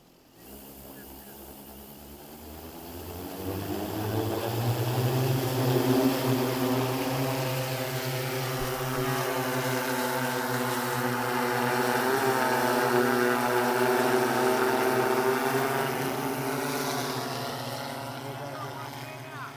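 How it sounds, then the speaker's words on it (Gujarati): An agricultural drone spraying pesticide over a farm field gives a loud, steady propeller whine that rises in pitch and swells as it draws nearer, then holds a sustained buzzing drone. "તમે જોઈ શકો છો ડ્રોનથી કઈ રીતે દવા છટાય છે."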